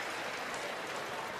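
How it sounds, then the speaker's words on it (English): Crowd applause in an arena at the Ford World Women's Curling Championship, Switzerland versus China: steady, dense clapping that fills the whole moment at even loudness, with no individual voices standing out. "And in it comes to the applause of the crowd"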